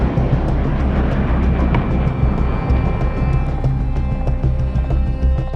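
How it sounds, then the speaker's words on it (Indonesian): A loud, steady roar of two F-16 fighter jets passing low overhead, a continuous broadband rumble with no breaks. "Dua jet tempur F-16 melakukan intercept dengan terbang sangat rendah"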